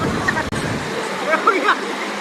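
Rushing river water in Norzagaray, Bulacan, a steady broadband wash of flowing current with brighter splashy bursts, close by and continuous, with people's voices faintly mixed in.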